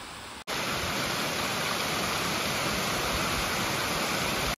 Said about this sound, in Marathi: शेतकऱ्याच्या मोटरीचं पाणी अर्ध इथं पडाले.